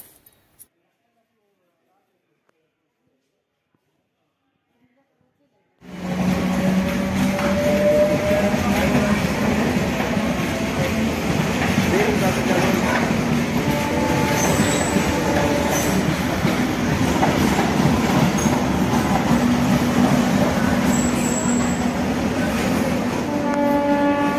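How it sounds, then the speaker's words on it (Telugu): A train pulls into a station on the way to Annavaram, its loud, steady rumble and rolling wheel noise starting abruptly after several seconds of near silence and continuing close by, with faint squeals over the din. "సో మా ట్రైన్ అయితే వచ్చేసిందండి"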